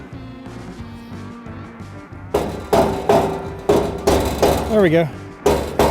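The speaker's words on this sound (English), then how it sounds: "I'm getting my mallet out, or my big hammer out." Mallet or big hammer strikes a car's core support to knock it into place: several loud, evenly spaced heavy metallic blows after a quieter start, with someone speaking briefly.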